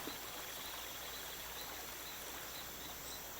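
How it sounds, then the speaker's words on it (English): Steady rushing water of the hot Boiling River in the Amazon flows continuously, a broad hiss of a stream with no voices, even in level throughout. "here's the boiling river"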